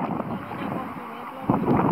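Gusty seaside wind on a beach at Eforie Nord, Romania, roars and buffets the microphone in a steady rush, swelling into a stronger gust near the end.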